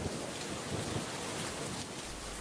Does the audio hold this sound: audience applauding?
no